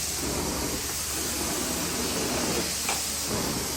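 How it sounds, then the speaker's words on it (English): A carpet steam cleaner steams out carpet fibers with a steady, close hiss and spray that keeps going throughout. "steaming it out now. Sanitizing the fiber yarns."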